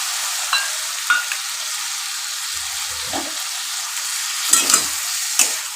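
Ginger paste frying with a splash of water in a pan, a bright continuous sizzle with a few scraping stirs and clinks, close and steady.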